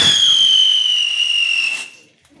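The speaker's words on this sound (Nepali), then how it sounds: "सबैले हेरौँ है चक्री बम" A chakri bomb, a spinning firecracker, goes off during Tihar with a loud, close, high whistling screech that holds for nearly two seconds and then cuts out.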